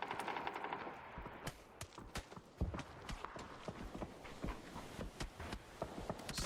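Rapid, quiet gunshots rattle from a competitive league video game match, with fast bursts and scattered single shots mixed with footsteps, heard faintly and only occasionally under casting commentary.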